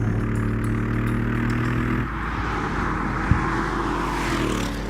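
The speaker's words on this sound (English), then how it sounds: "this turbo V8 doesn't sound like a turbo car" The turbo V8 of a 2014 Mercedes-Benz CLS63 S AMG growls loud and close with a deep, steady rumble. The note roughens and changes partway through as the load shifts, and a short knock stands out near the end.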